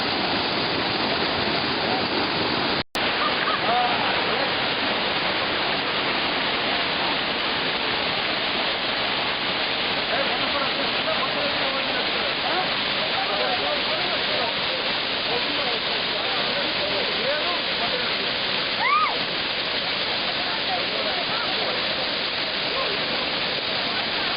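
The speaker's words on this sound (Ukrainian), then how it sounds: "Зараз ми знаходимося біля водоспаду Кам'янка" Steady rushing roar of the Kamianka waterfall in Ukraine, constant and full, with no pauses or voices over it.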